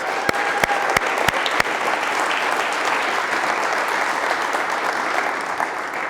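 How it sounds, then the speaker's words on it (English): A roomful of people at a Hall of Fame event give a steady round of applause, dense and even, with a few sharp nearby claps standing out at the start. "Let's give her a round of applause."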